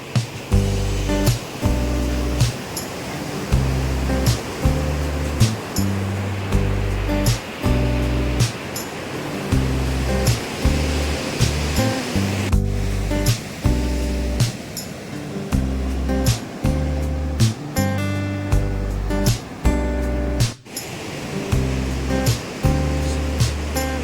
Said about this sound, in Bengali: পেছন দিকে দেখতে পাচ্ছ পুরী সমুদ্র